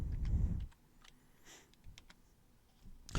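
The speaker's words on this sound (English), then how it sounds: "Excuse the typing." Quiet typing on a computer keyboard while programming an ESP32, a scatter of light, irregular key clicks with pauses between them, heard close in a quiet room after a low muffled bump at the start.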